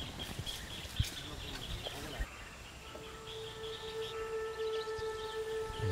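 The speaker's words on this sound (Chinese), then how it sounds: "你看你这里就有鸟叫声" Birds call in a rainforest understory, thin chirps and sustained whistled notes rising over a hushed ambient backdrop, with people talking nearby at times.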